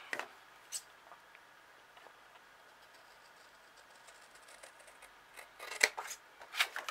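Scissors snip through excess card while trimming a handmade new home card, producing a few quiet, sparse cuts with soft clicks, the sharpest snips near the end.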